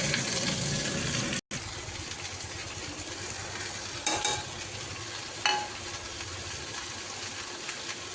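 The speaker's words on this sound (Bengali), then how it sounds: "আমি কতগুলো ভুট্টা ভাজা বসিয়েছি" Corn kernels frying in a pan, seasoned with salt and turmeric, sizzle steadily in a near, continuous hiss with stirring noises and a couple of brief louder scrapes, and no talk over it.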